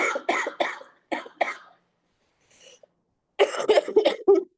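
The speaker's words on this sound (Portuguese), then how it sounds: "leia para mim que eu vou tossir" A woman coughs repeatedly in harsh bursts, a cluster at first, then a pause with a faint throat sound, then another long run of coughs, close and loud indoors.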